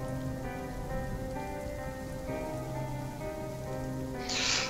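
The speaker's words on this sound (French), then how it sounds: "la pluie tombe" Rain falls steadily on a cold country road at dusk, a constant even hiss with a low tonal hum underneath and a brighter splashy burst near the end.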